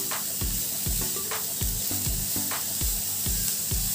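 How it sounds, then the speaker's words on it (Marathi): Cabbage and mixed vegetables for veg momo filling sauté in a hot pan, a steady loud sizzle with rhythmic scraping strokes of a spatula stirring about every half second. "2 ते 3 मिनिटे आपण हे व्यवस्थित छान परतून घेणार आहोत।"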